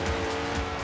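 A Koenigsegg Regera in Forza Horizon 3 roars steadily at high revs, a loud continuous engine drone with a faint hint of tire squeal.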